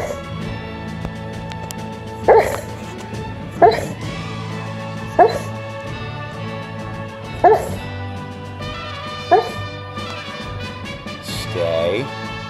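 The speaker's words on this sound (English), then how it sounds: "Look at this little pupper." A small service dog gives five short, sharp yips spaced a second or two apart, with soft whimpering mixed in, heard close over a steady background hum and some voices.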